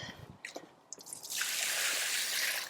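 Leftover water is dumped from a container into a rooftop garden bed: a few faint drips first, then a steady close splashing pour that continues to the end.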